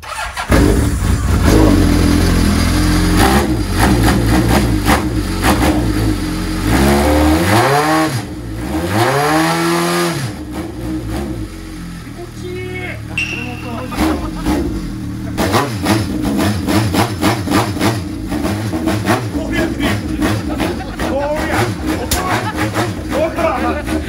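An engine turns over and revs up and down in rising and falling sweeps, then idles roughly, with people talking over it nearby.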